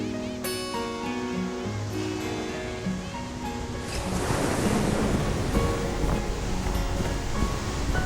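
Pacific Ocean surf breaking on a young volcanic Galapagos coast, a broad continuous wash of waves that swells louder midway, with wind buffeting the microphone.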